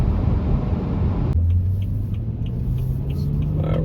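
A BMW F30 335i pulls hard under acceleration, a loud, close engine rumble with a steady rising tone after a brief gear change, filling the cabin without any talk.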